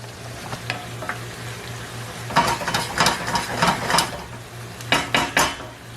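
Wine sauce sizzling as it reduces in a pan for a Greek pastitsio, a steady frying hiss under a low hum, broken by bursts of spoon stirring and scraping against the pan, close and fairly loud.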